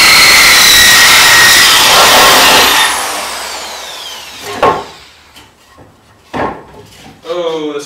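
A power drill spins a hole saw through a 2x4 wooden board, a loud grinding whine for about three seconds that winds down, then scattered clunks and a voice speaking.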